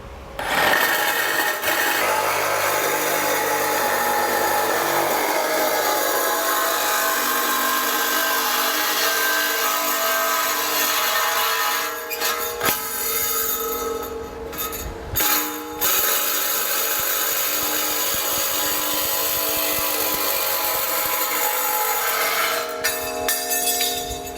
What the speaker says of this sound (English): It's pretty thick steel. I'm going to use a hacksaw.